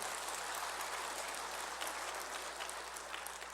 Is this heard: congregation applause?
yes